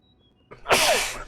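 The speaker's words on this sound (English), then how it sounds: "I've been sneezing all day today, I don't know why." A man sneezes once, a sharp breathy burst that rises suddenly after a quiet moment and trails off, close and loud with no talking.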